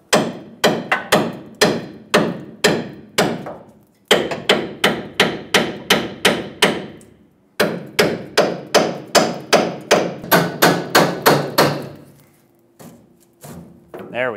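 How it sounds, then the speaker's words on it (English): A hammer strikes a stuck rear leaf spring shackle on a 2008-2010 Ford F-250 Super Duty in steady, ringing taps, three quick bursts of about a dozen blows each, then a brief low hum. "try to give it a couple taps with a hammer."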